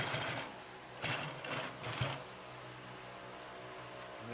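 A Consew P2339 double needle walking foot sewing machine stitches through layered material in short bursts of rapid mechanical chatter, with a longer run at the start and quick stops in between, heard close and without talk.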